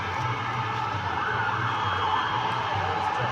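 Police sirens wail continuously over steady rain and street noise at a protest in Warsaw, moderately loud and somewhat distant.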